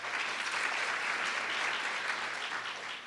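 Audience at the SERC 2017 event applauding for Patricia Ober, a dense, steady wash of many hands clapping at moderate distance, sustained without a break and tapering slightly at the end.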